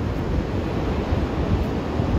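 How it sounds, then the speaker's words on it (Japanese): Steady wind roaring across the microphone at a surf beach at Chiba's Onbara, a blowing north to north-northeast side-offshore breeze, dense and unbroken with a low rumble of surf beneath. "今風が北から北北東サイドオフが吹いてます"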